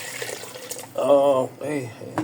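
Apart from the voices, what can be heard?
water being poured into a cooking pot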